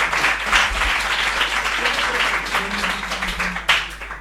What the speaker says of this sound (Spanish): Otro aplauso para Robert, por favor.